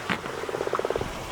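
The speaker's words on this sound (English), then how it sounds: "My little baby frog in there, needs to get him out." A small frog croaks inside a water tank on an off-grid tank installation site, giving a brief call and then a quick rhythmic train of close, moderately loud croaks with no talking.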